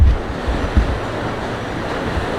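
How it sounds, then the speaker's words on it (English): Wind buffeting outdoors as a continuous low roar, with a couple of stronger gusts near the start. "quite windy outside at the moment"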